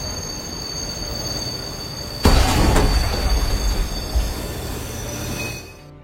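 Electric commuter train (KRL) in a Train Simulator game recreating a rear-end collision at Juanda station, a sudden loud impact followed by screeching wheels and rumbling metal that slowly fades out.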